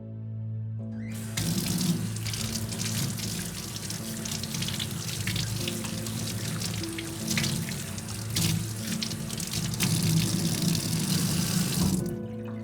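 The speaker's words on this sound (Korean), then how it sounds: "화장실에서 물소리가 들려왔고" A bathroom sink tap runs, starting abruptly and pouring steadily and loudly for several seconds, close by, before cutting off at the end.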